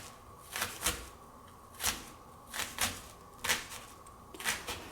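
A knife mincing red onion on a cutting board, making irregular clusters of crisp, close chopping taps with short pauses between bursts.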